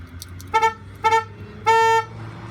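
Car horn on a vehicle fitted with Sure Grip push/rock hand controls, sounding three distinct honks: two short beeps followed by a longer blast, loud and close over a low idling hum.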